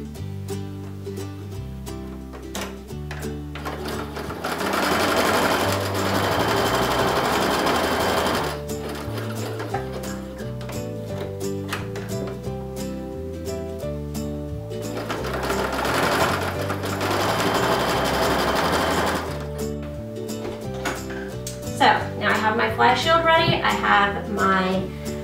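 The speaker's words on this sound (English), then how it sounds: "I'm going to faux overlock down one short edge and one long edge" A sewing machine runs a faux overlock stitch along the short and long edges of shorts fabric, with a steady mechanical whir in long bursts separated by pauses.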